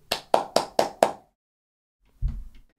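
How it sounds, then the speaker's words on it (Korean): Five sharp hand claps in quick, even rhythm ring out close and clear, followed by a short low thump after a pause, with no talk. "박수!"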